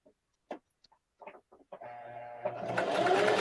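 A sewing machine stitches and back stitches fabric, beginning with a few scattered clicks and taps before the motor starts up and hums steadily. The stitching grows louder and busier toward the end, close by and without talk.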